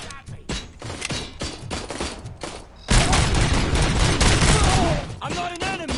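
Gunfire in the Robocop Rogue City video game: scattered shots at first, then a loud, dense burst of rapid automatic fire that trails off into a few final cracks, heard close.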